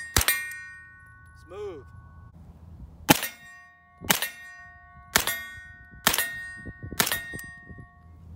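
Double-tap gunshots from a 9mm carbine with a 16-inch upper, several loud sharp pairs of reports spaced about a second apart with ringing tails, close by outdoors; a brief voice speaks between shots.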